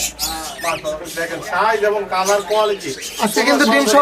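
Cockatiels and budgerigars chirp and call in a busy bird market, their high tweets scattered beneath close, continuous conversation between people.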